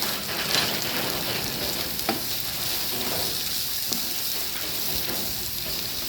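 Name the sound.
stirring pasta ingredients in a frying pan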